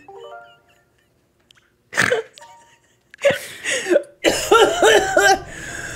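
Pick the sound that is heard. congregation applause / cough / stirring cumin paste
cough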